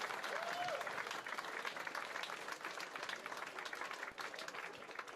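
An audience claps continuously at a youth and senior wakeboard championship ceremony, broad sustained applause with a voice heard faintly at the start.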